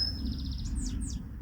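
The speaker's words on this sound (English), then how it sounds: "The birds are singing." Songbirds sing outdoors on a riverbank on a cool morning at the opening of the river fishing season, chirping and trilling clearly over a steady low rumble of background noise.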